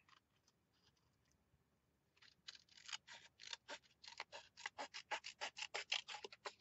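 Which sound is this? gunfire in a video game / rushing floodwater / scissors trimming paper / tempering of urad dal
scissors trimming paper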